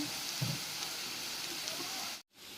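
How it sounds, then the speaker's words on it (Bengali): Soaked soybean chunks fry in a pan, giving a continuous hissing sizzle that cuts off abruptly near the end, close and fairly quiet, with no speech. "একটু সোয়াবিনগুলো নেড়ে একটু ফ্রাই করে এবারে তরকারিটা বসালাম।"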